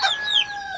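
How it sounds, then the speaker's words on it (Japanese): Chicks peep in a bird coop at Isonokami Shrine in Nara: a few quick, high, sliding chirps heard up close, alone and without talk, lasting under a second. "ピヨピヨって言ってます。"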